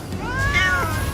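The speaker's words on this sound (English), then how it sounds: "I wish you could turn off the meowing." A Felbat-like creature in the game Palworld lets out a single drawn-out, wavering meow, close and clear, with no talking.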